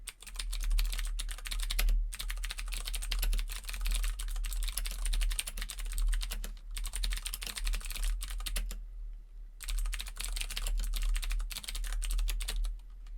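Rapid, steady typing on a mechanical keyboard with clicky blue switches, crisp clacking keystrokes close up, with a couple of brief pauses and no talking.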